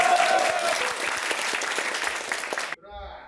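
Soldiers at a Korean island post burst into loud, dense applause at a welcome gathering, the clapping steady for nearly three seconds before cutting off abruptly.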